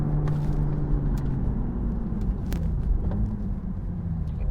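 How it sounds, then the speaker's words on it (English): A 2023 Toyota GR Supra with a manual gearbox blips its engine to rev-match a downshift, a steady low engine drone inside the cabin with a brief rise and fall in pitch. "There is rev matching on the downshift for this vehicle."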